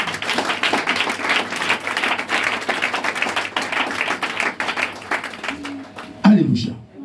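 A church congregation applauds with steady, dense clapping that fills the room, mixed with voices, before it fades and a short louder vocal burst cuts in at the end.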